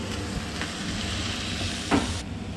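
Steady frying sizzle from ingredients browning in a pan ahead of adding sand crab, with a brief louder crackle near the end and the hiss easing off just after.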